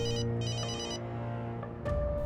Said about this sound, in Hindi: बाबा का फोन है, वो परेशान हो रहे होंगे।